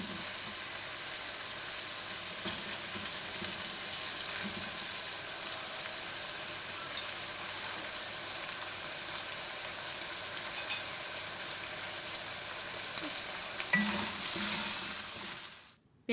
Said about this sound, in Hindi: प्याज को अच्छी तरह सौते करना है, इसे हमने ब्राउन नहीं करना, बस इसका हल्का सा कलर चेंज करना है।